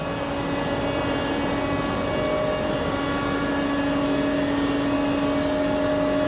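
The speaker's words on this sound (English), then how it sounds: "I believe we're hearing the external power unit." An aircraft external power unit runs at Raleigh-Durham International Airport, a steady loud drone with strong sustained tones holding evenly throughout, no voices over it.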